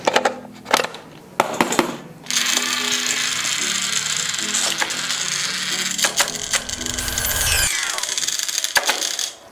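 An animatronic figure's motor and gearbox run with a loose screw rattling inside, a continuous grinding whir with scraping and knocking, preceded by a few sharp clicks and handling sounds.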